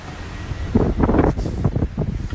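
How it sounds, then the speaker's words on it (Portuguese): Strong gusts of wind buffet a microphone on a seaside balcony above a beach, loud rumbling bursts that rise and fall irregularly throughout, with no talking. "é porque é o vento. Aqui venta muito."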